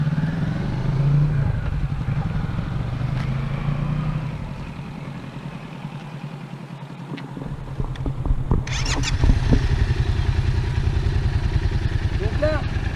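Motorcycle engine rumbling at low speed on a slow-riding cone course, a steady nearby idle-like drone with slight revving, heard under someone talking throughout.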